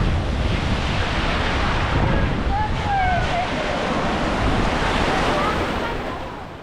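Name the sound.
rough sea waves on beach at Baia dei Turchi, Otranto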